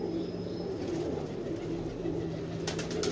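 A flock of pigeons keeps up a low, continuous cooing nearby, joined near the end by a brief rustle that could be wings.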